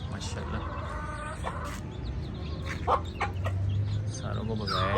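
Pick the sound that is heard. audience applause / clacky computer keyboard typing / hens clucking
hens clucking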